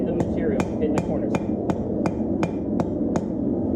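A hand hammer strikes hot metal on an anvil while a leaf is being forged, about ten sharp, ringing blows landing in a steady, even rhythm, loud and close.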